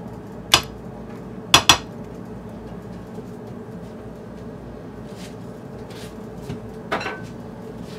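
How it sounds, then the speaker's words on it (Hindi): A cake pan of chocolate batter lined with butter paper is tapped against a kitchen surface, giving a few sharp knocks near the start and a fainter one later, alone with no talk. "अब इसे टैप करेंगे, इसके जो एयर बबल्स है वो निकालेंगे।"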